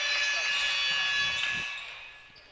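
A long, loud electronic buzzer sounds at the end of a quarter at a freshman high school basketball game, droning steadily then fading, over faint gym crowd noise.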